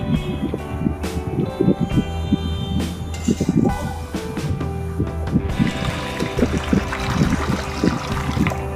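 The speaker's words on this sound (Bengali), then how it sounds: "আবারও ধুয়ে নিচ্ছি খুব পরিষ্কার করে" Water splashes and trickles as flattened rice (poha) is rinsed clean by hand, an uneven run of sloshing and pouring that turns into a steadier, hissier flow partway through.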